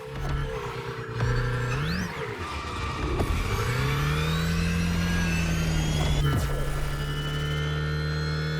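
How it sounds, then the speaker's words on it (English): A car accelerating hard in The Crew Motorfest racing game, its engine revving up through gear changes with rising and falling pitch, loud and continuous with no talk over it. "This car accelerates like hell."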